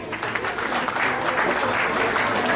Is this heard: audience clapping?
yes